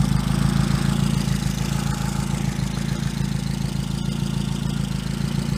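Reliant 750 three-wheeler trike engine idling through a Scorpion exhaust, a steady, loud, low rumbling throb that holds even and continuous throughout with no talk.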